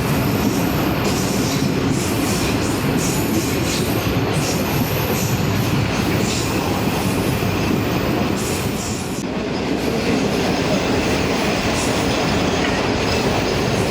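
The Allama Iqbal Express runs toward Okara station, its carriages giving a loud, steady roar of wheels on rails with rhythmic clicking and occasional squeals, heard from aboard the moving train with no talk.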